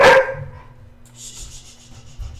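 A dog barks once, a loud close sharp bark at the start, followed by quieter rustling and faint hiss.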